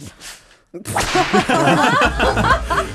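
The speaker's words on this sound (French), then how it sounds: "Vous aimez bien les coups de fouet, vous" Whip cracking: a quiet lead-in, then one sharp crack followed by a loud, sustained rushing whoosh.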